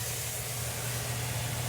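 Dry-rubbed ribs, seasoned with ancho, cocoa and espresso, searing in an oiled pan on a stovetop, giving a steady close hissing sizzle with a low hum beneath.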